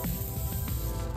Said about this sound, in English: I'm using Trader Joe's coconut oil spray.